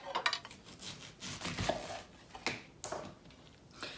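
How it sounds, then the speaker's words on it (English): A knife slicing around a peeled pineapple, giving a few quiet, scattered cuts and soft clicks against the board or plate, with no talking. "you just want to go around and slice the pineapple"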